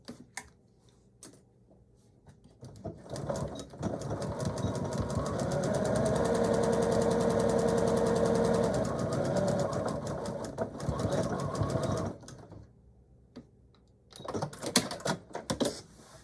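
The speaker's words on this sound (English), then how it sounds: "I'm going to just pull this out and sew it right where it is." A sewing machine stitching a handbag organizer, a fast steady mechanical ticking that ramps up, runs continuously for several seconds at close range, then slows and stops before a few separate clicks.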